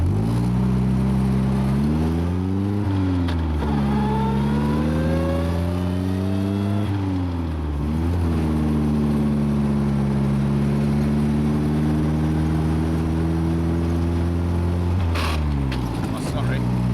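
A vintage MG J2 sports car engine pulls hard through the gears on a rough, earthquake-damaged road in Christchurch, loud and close, with rising revs, brief drops at each gear change, and a speaker talking over it.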